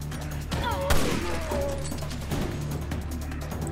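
A few gunshots in Resident Evil Revelations 2, with one sharp loud crack near the start standing out over a dense, noisy background of game effects.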